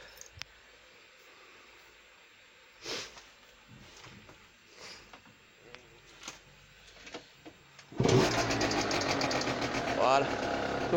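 A Derbi Euro 4 motorbike engine fires up after a few quiet clicks and faint talk, then settles into a loud, buzzing high-pitched idle that holds steady at close range.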